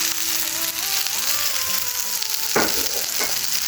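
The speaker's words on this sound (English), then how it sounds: "Now, as our burgers cook, remember it's just a simple one." Burgers fry in a pan with a steady, dense sizzle throughout, while gentle stirring or turning noises and a pair of sharper crackles rise near the end.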